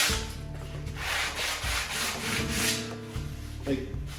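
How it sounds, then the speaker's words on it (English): Rhythmic back-and-forth rubbing of 80 grit sandpaper along the edges of a wooden dado, quick repeated close strokes with no voices. "80 grit paper, and I'm just going to run it around the edges of the dado, just real quick to get any loose wood off there"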